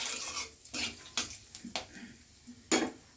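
Whole cumin seeds stirred in a cooking pan while tempering spinach masoor dal, giving a few sharp, separate clinks and scrapes of a utensil against the pan with quiet pauses between them.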